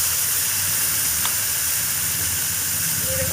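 Taro greens and shrimp drop into a pan of hot garlic-fried oil, giving a loud, continuous steamy hiss and sizzle up close with no talking.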